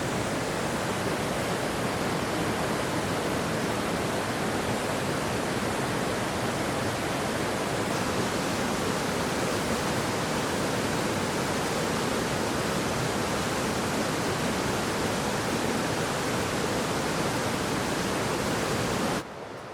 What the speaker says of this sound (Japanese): 落差は少ないですが、水量と迫力は十分の滝です。